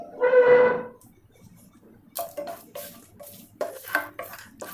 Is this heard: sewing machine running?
no